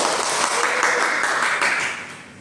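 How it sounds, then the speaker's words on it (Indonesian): A classroom group claps for a student's correct answer during a microteaching lesson on colloid systems, a dense burst of applause that starts at full strength and fades slightly toward the end. "Kita berikan aplaus"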